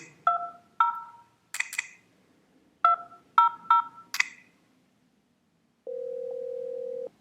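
DTMF keypad tones from a softphone app on an iPhone dialing extension 200 across an IAX trunk between two FreePBX servers: a quick series of distinct beeps in short groups, then a steady ringback tone starting near the end.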